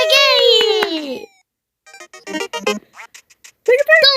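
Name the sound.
ducks quacking in Duck Hunt mobile video game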